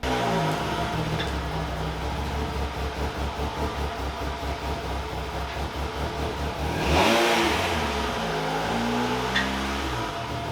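A B16-engined Honda Civic EG hatchback with an exhaust leak rumbles and revs steadily with a pulsing, throaty tone, swelling briefly louder partway through as it reverses.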